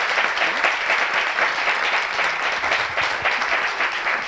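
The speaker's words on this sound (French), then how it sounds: "on peut applaudir le pasteur." A studio audience applauds a pastor with warm, continuous clapping that holds at an even, fairly loud level for the whole stretch, with no voices standing out.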